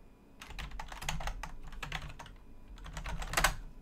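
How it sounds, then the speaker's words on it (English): Someone types on a computer keyboard in quick irregular bursts of clacking keys, close and fairly loud, with short pauses between runs and no speech. "Hopefully, I'm typing this right"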